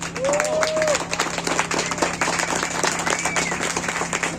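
An audience at an environmental anniversary ceremony in Tepepolco claps for a teacher receiving an award, a moderately loud round of applause mixed with crowd murmur and brief whistle-like tones.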